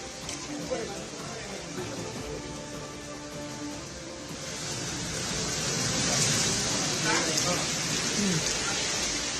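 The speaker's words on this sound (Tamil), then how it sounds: "புவனேஸ்வர், ஜெகத்சிங்பூரில் விடாது கொட்டும் மழை." Heavy, steady rain pours down in Bhubaneswar, Odisha, a dense continuous wash of drops that swells louder midway through, with no talk over it.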